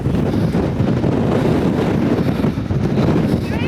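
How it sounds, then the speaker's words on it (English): Strong wind buffets the microphone in a continuous, loud, rumbling roar with no pauses. "It's a little bit windy."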